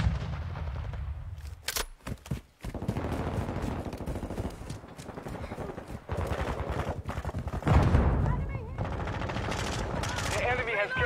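Video game gunfire crackles almost continuously for about eleven seconds, with bursts of automatic fire and heavier blasts layered close and loud, while a player's voice and game announcements talk over it.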